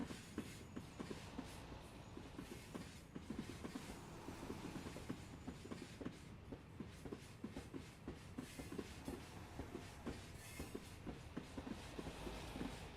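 In Train Sim World 3, on the Linke Rheinstrecke line with a BR103 locomotive, the wheels clickety-clack over rail joints in quiet, regular rhythmic clicks over a low rolling rumble.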